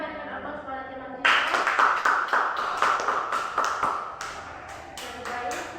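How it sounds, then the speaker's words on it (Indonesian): Classroom of students clapping for a classmate, a burst of dense applause that starts abruptly and carries on steadily for several seconds, close and lively, after a teacher's voice. "kita berikan aplaus pada teman kita"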